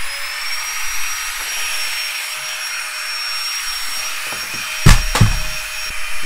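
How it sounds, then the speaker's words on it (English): A small electric pump inflates backpacking gear, giving a steady high-pitched motor whine and airy hum held close throughout, with a couple of sharp handling knocks near the end. "I'm just holding it on the nozzle. And she's inflating."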